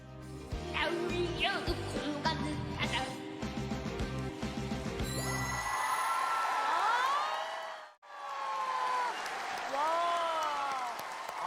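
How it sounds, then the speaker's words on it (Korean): Studio audience on a TV singing competition breaks into loud applause for a nine-year-old contestant, starting after a burst of music and sustained across the room with voices mixed in. "우리 아홉 살의 당찬 도전 샛별 우리 민롱홀에게 큰 박수."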